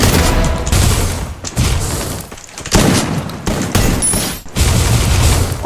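Gunfire in the mobile battle royale game Free Fire, loud bursts of rapid shots in several volleys separated by brief pauses, close and dominating.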